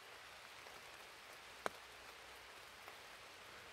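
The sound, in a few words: rain falling on a tent under trees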